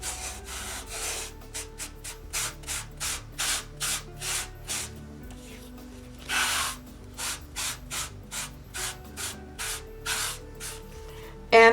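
Repeated dry rubbing strokes of a dry sponge burnishing gilding flakes, close and steady, scrubbing rhythmically across a surface in short bursts with brief pauses between.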